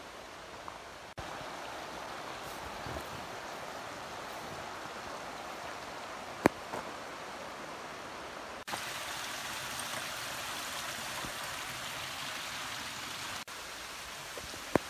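The Vielia mountain torrent flowing beside a hiking trail, a steady broadband rush of water heard continuously and fairly close, with a few brief knocks and shifts in level and no voices.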